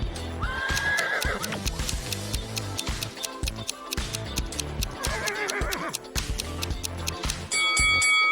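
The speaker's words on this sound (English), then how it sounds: "And whose horse is this?" A horse neighs twice, long shrill whinnies a few seconds apart, amid clattering and busy background noise.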